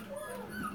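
Puppies whimper and yip inside a kennel, a soft steady whining texture with faint high cries that stays low and continuous throughout.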